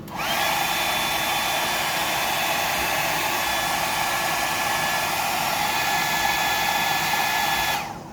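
A hair dryer blows steadily and close up to dry freshly airbrushed paint, a continuous whirring rush that runs unbroken to the end without any talk.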